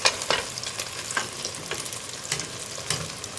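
Egg scrambled in a pan for schezwan noodles, quiet soft sizzling with light scraping and stirring strokes recurring every half second or so, close and alone.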